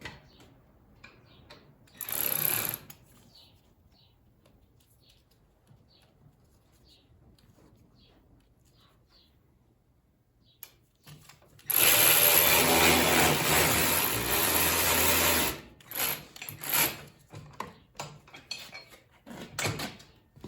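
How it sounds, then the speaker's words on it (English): An impact ratchet running a bolt in while fitting air bags to a Ford F450 Super Duty overlander, a short whir early on, then a loud sustained buzzing run of several seconds, amid clinks and handling noises. "we're going to use our impact ratchet to run that bolt in"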